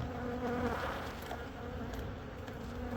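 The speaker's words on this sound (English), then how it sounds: "Bees everywhere." Thousands of honey bees buzz inside an opened, tightly packed hive, a dense, continuous drone that holds steady and close throughout with no voices over it.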